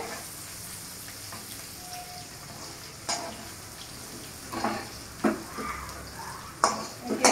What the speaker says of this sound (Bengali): আমার ফুলকপি ভাজা এবার কমপ্লিট। আমি ছেঁকে তুলে নিচ্ছি।